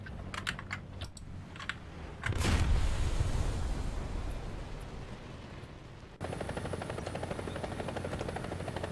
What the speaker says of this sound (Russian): это вертолет